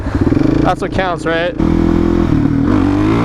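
A Suzuki DRZ 400 fitted with an MRD Pro Comp exhaust revs hard for a small wheelie, its engine note rising and dropping before settling into a steady loud drone, with a rider's voice speaking briefly over it.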